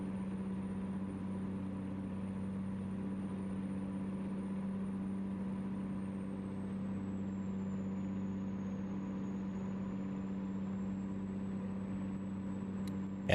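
Truck engine in a truck-driving video game, a steady, droning mid-pitched hum with a constant low tone and a faint high turbo whine that slowly dips and rises, running continuously without voices.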